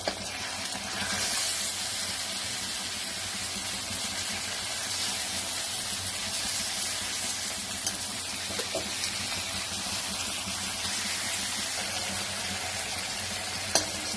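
Hilsa fish coated in mustard paste frying in a pan, a dense continuous sizzle with faint stirring, steady and close, with no talking.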